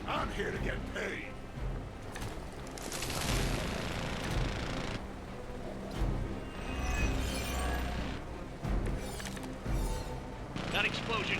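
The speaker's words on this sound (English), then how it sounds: "That explosion just shorted out half our systems." Dense, chaotic combat in Marvel's Midnight Suns on PC rumbles throughout, with booming explosion blasts and gunfire-like crackles layered under occasional voices.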